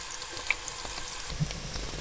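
Small chopped onions sizzling in a pan, a soft steady crackle and hiss with a couple of faint clinks, close and moderate in level.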